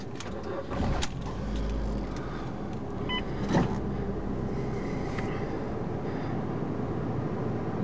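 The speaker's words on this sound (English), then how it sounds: "Start the car up." A Ford Fiesta with 30,946 miles on it cranks and starts, then settles into a steady, close idle with a small clunk or two and no talking.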